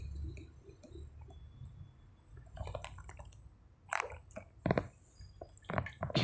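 Someone pours and sips a little water at close range, with faint liquid squishes, drips and soft swallowing clicks over a quiet room background.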